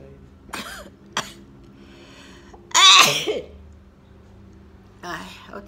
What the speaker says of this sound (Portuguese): Outra vez espirrei também.